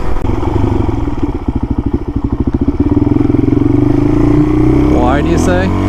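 Suzuki DRZ dual-sport motorcycle with an FCR39 clone carburetor cruising on back roads, its steady engine drone loud and close throughout, pulsing briefly as it shifts, with a voice talking over it near the end.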